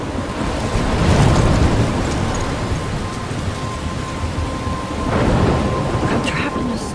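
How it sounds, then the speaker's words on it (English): Thunderstorm in the video game Life is Strange, with heavy steady rain and rolling rumbles of thunder swelling twice, loud and enveloping. "I'm trapped in a storm?"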